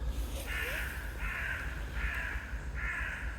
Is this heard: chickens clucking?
no